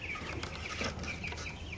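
Meat-bird chickens cluck softly inside a backyard coop, faint scattered calls over a steady background hum, no talking.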